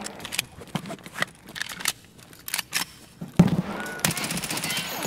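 Rapid bursts of automatic gunfire from the video game Escape From Tarkov, sharp broadband cracks scattered irregularly and then a dense sustained volley near the end, with loud impacts close by.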